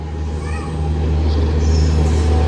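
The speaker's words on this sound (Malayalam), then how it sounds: "വിജയവാഡയുടെ WP7 വെച്ചിട്ടാണ് വരണത്." The Pune–Kanyakumari Express, hauled by a Vijayawada-based WP7 locomotive, rolls in slowly on the main line, giving a steady, fairly loud low rumble and hum that holds throughout, with faint higher tones above it.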